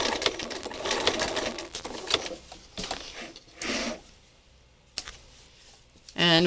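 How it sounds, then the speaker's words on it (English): A sewing machine stitches the edges of fabric layers together, running in loud bursts of rapid mechanical rattling with short pauses between them, a brief sharp clack near the end. "what I was doing was just simply stitching the edges together"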